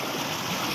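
Clear water flows steadily in a village in Azad Kashmir, a close, continuous rushing hiss with no pauses and no voices.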